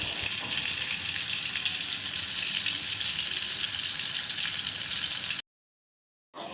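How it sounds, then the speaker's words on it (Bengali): Chicken pieces frying in oil with home spices, giving a continuous close sizzle with a constant bright crackle, no talk, then cutting out abruptly before a brief return. "ঘরোয়া মশলাতেই আমি এখানে চিকেন ফ্রাইগুলো ভেজে নিচ্ছি"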